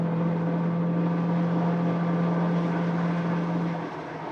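A Ford Territory SUV with a CVT gearbox accelerates uphill, its engine giving off a steady droning whine with a sustained tone that holds evenly through the climb before easing off near the end.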